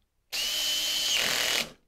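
A cordless drill fitted with a square drive spins a manual lathe's collet chuck in one steady, high-pitched whirring burst of just over a second, close and loud, then stops.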